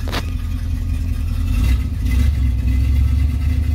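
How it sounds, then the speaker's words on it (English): An old car engine fired up cold after pumping the pedal, running at a steady rumbling idle with a brief blip of revs, close and fairly loud with no talk. "Fired right up, you gotta like that."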